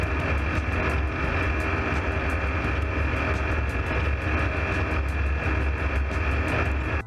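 An airplane in flight gives a loud, close, steady engine drone and rushing air that holds constant for several seconds, with no talking.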